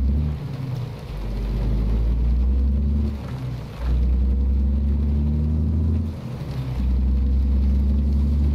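Low, steady truck engine rumble in American Truck Simulator, running with a Sound Fixes mod in place of the default SES Thunder sound, with two brief dips in level as it idles and drones on alone.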